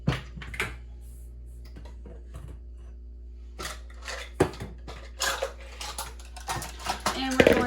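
Medium mixing bowls set down and picked up on a kitchen counter while pumpkin cheesecake bites are made, giving scattered clinks and knocks of varied loudness with quiet gaps, a sharper clatter near the end.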